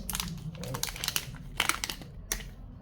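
Sealed packaging of a silver micro card reader being torn and opened by hand, a close run of crinkling, crackling bursts and small snaps lasting a few seconds, with no talking.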